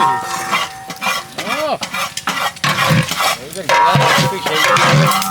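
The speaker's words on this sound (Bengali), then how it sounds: "হ্যাঁ আমরা তেহারি চাল ভাজার ভিতর একটু ঘি দিয়ে দেবো, গায়া ঘি, খাঁটি গায়া ঘি দিয়ে দেবো।" Tehari rice frying in pure ghee is stirred in a large pot, with a busy sizzle and scraping under voices talking nearby.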